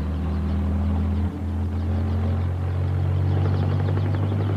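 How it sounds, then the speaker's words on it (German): A firefighting helicopter working overhead on a fire, its steady low rotor and engine rumble droning loud and continuous throughout, with no voices. "Und Hubschrauber müssen helfen, denn die können von oben löschen."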